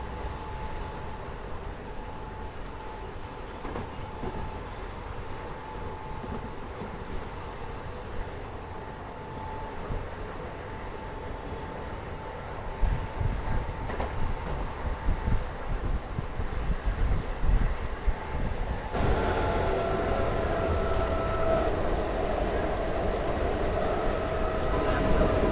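A MEMU suburban train runs along the line near Tumakuru, a steady rumble of rolling wheels and wind noise heard from aboard, growing louder and rougher midway as the carriage rattles on.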